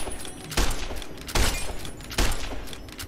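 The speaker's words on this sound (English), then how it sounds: "Sally, I don't want to use this gun anymore" Gunfire in the video game Fallout New Vegas: three heavy, booming shots spaced about a second apart over a constant background hum.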